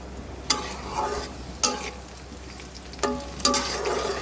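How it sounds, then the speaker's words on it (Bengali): Two kilos of washed, drained beef frying in hot oil with chilli and garlic, a few sharp scraping stirs standing out over a soft continuous sizzle, close by and without speech. "এখন আমি পানিগুলো ছেঁকে মাংসগুলো তেলের মধ্যে দিয়ে দিব"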